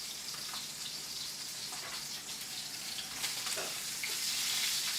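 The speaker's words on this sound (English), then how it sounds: "And then we're going to go in the pan with a little bit of butter and baste the steak." A porterhouse steak sears in a pan with butter while being basted, giving a steady, fairly quiet hiss and crackle of frying that holds throughout.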